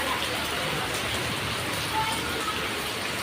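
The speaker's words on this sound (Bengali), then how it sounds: "বৃষ্টি নামতেছে মনে হয় না বৃষ্টি যাবে বলে" Steady rain falls outdoors in a village, where kids are playing football in it. The hiss is dense and even and continues throughout, with no voices standing out.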